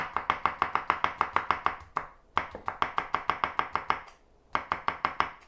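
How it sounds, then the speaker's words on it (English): A knife chops vegetables on a cutting board in quick rhythmic bursts, sharp close taps in steady runs separated by two short pauses. "Now we're gonna do a little chopping."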